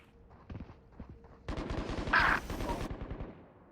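Judge automatic shotgun fire in a VALORANT match during a LAN tournament: scattered shots, then a dense, rapid burst of blasts that ends sharply, loud and close.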